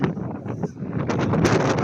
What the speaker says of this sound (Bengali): অন্য সাইডে প্রচুর বাতাস আর বিরাট বড় বড় ঢেউ